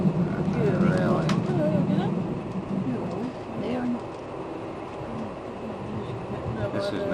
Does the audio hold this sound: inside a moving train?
yes